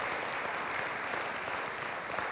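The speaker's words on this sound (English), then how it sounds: "give him a hand clap of praise" A church congregation gives a hand clap of praise, a dense, steady roll of many people clapping together, moderately loud and continuous throughout with no speech on top.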